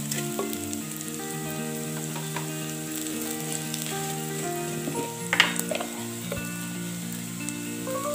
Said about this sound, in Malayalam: അതുപോലെ തന്നെ ഇത് സൈഡിലേക്ക് മാറ്റിയിട്ട് കുറച്ച് വെളിച്ചെണ്ണ ഒഴിച്ച് കൊടുക്കുക.